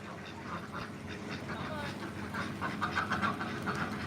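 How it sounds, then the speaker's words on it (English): Farmyard ducks quack in short bursts, somewhat distant, mixed with low background noise and some voices nearby. "All I know is these are ducks."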